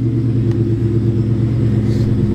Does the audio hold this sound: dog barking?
no